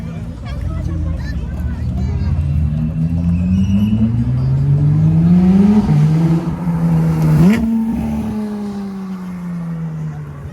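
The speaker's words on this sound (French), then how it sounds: "la GT3 RS, elle arrive, là, elle fait un bruit" A Porsche GT3 RS sports car approaches with a loud, rising engine note that swells and shifts pitch through several gear changes, building to a close pass, over a background of crowd babble at a car meet.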